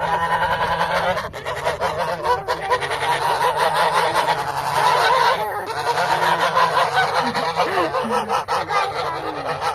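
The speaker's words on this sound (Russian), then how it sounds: "Прямо возле нашего дома в Кельчеве гуси и куры." Geese honk repeatedly and loudly, close by, while grazing on an empty village plot beside a house in Kielczów, Poland. Chickens are also present, and a dog barks faintly now and then.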